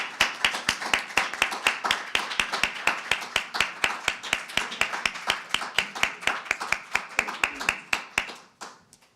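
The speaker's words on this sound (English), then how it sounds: "let's give them a round of applause." Audience clapping for a panel at a community conversation event, a loud, close, rhythmic run of claps through most of the stretch before trailing off and stopping.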